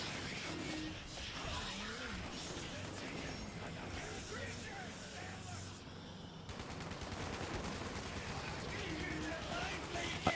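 Gunfire in the Fallout 76 video game crackles in rapid bursts beneath a player's talk and game background, fairly quiet and continuous with a sharper shot at the end.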